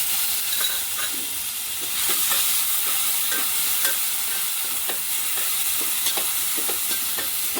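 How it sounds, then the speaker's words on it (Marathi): Soaked Ambemohar rice stir-roasted in ghee, a steady sizzle with repeated light scraping and stirring strokes of a spoon against the pan, close and continuous. "तांदूळ भिजवून ठेवलेत आंबेमोहर तांदूळ आहे हे सुद्धा या तुपावर आपण परतून घ्यायचे"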